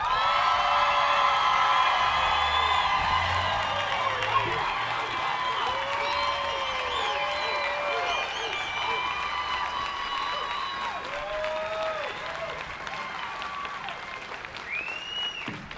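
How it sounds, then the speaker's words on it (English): A crowd at a corporate awards event breaks into loud applause with whoops and cheering, sustained clapping filling the room while high shouts rise over it and gradually taper. "Let's give a thunderous Northwest rock star applause for your president and CEO, Bill Wagner."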